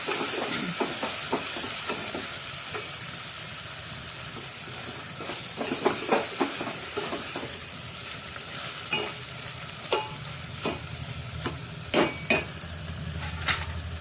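Chana dal and pumpkin curry frying in a pan, a steady sizzling hiss with intermittent scraping stirs and sharp clinks of a spoon against the pan, close and continuous.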